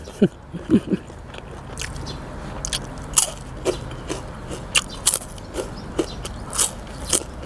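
Repeated crunchy bites into crispy fried fish served with a spicy papaya-style salad at a home meal, about a dozen sharp crackling crunches spaced roughly every half second, close and fairly loud over a quiet background.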